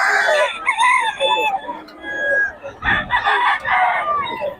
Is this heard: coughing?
no